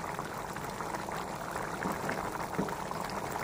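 Chicken pieces for Patiala chicken simmer in a covered pot over a medium gas flame, giving a steady bubbling, gurgling wash of liquid that stays even and close throughout, with no voices.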